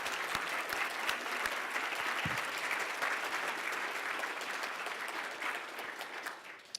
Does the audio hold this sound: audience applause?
yes